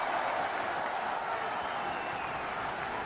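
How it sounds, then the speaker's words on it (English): Spectators at an India versus Bangladesh Asia Cup final cricket match applaud steadily, a broad even wash of clapping and crowd noise that holds at a constant moderate level throughout. "A nice round of applause from the spectators, from the president's box"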